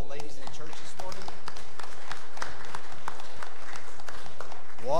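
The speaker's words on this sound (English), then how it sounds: "give a round of applause for our moms and all the ladies in the church this morning" Congregation applauding during a Sunday morning church service honoring mothers and women, a steady wash of clapping throughout with voices mixed in.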